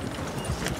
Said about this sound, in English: The horses scare so easily.